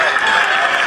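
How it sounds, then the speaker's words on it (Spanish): A brief burst of dense crowd applause at a school graduating class presentation, steady and loud, with some voices mixed into the clapping. "Fuerte aplauso para todos ellos, por favor."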